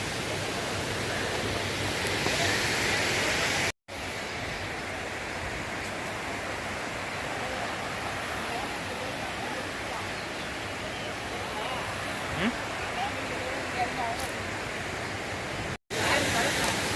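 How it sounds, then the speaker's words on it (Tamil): Steady, loud roar of falling water at Hogenakkal waterfall, heard from a hanging suspension bridge over the river, a dense continuous rush filling the whole clip with no pauses. "அந்த நீர்வீழ்ச்சி தண்ணியெல்லாம் அங்கே வந்து போய் சேருதுங்க."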